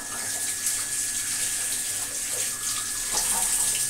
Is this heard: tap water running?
yes